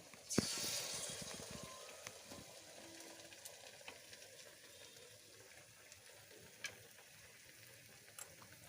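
Bok flower fritters frying in oil give a soft, quiet sizzle, with a sharper spatter burst near the start and a few small pops after, no one talking.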